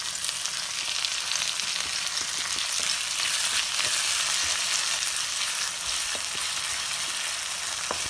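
Chopped tomato frying in a pan for egg biryani, giving a loud, dense, continuous sizzle that stays steady from start to finish, close up with no voices.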